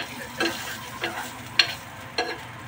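Butter sizzles in a hot pan ahead of pork sisig, a soft frying hiss broken by a few sharp clicks and scrapes of stirring, with no voices.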